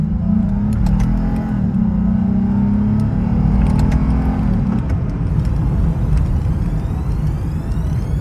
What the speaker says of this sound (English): Let the revs drop a little bit.